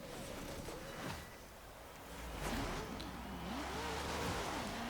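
A 2017 Chevrolet Camaro ZL1 engine in Forza Horizon 3 on a snowy hill-climb course, revving up and down as it accelerates, fairly faint and steady with rising and falling pitch.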